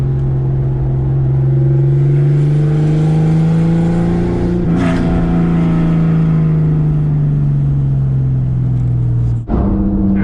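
A Porsche car engine drones loudly and steadily while driving, with a strong low hum whose pitch rises slightly and then falls. It is heard close up and uninterrupted for about ten seconds.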